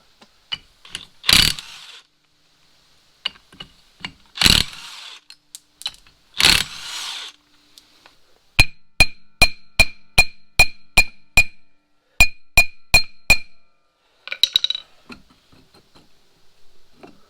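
Metal bolts and washers from a Suzuki King Quad 300 ATV rear hub clink sharply during removal: a few scattered knocks, then a quick series of about a dozen bright, close metallic taps, then quiet.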